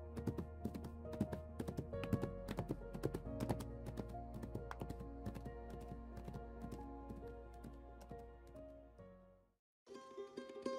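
Horse hooves clop in a rapid, steady galloping rhythm as an audiobook sound effect, close and continuous, cutting out briefly before resuming.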